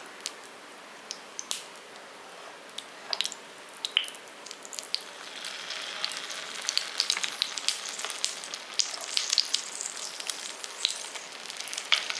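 Paniyaram batter being poured into a hot, oiled paniyaram pan, giving a soft, steady sizzle with scattered crackles and drips that build and thicken as more batter goes in, near and with no speech.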